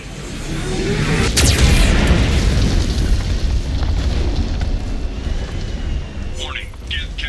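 A loud cannon-like boom from a Geth cannon in the video game Mass Effect 2 opens a long rolling, rumbling blast that slowly fades, with faint later crackles.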